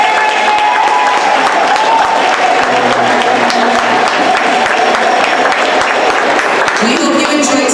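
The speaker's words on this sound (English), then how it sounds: "Please stand, show your appreciation by giving a big round of applause for these outstanding officials." Spectators in a high school volleyball gym applaud the game officials, dense sustained clapping loud and close, with a faint voice or crowd murmur mixed underneath.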